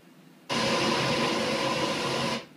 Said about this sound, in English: It sounds like this on the outside of the aircraft when the packs are on,